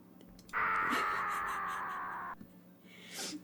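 A sustained, strained cat-like cry rings out alone for about two seconds, loud and steady, then breaks off, with a brief squeak at the end.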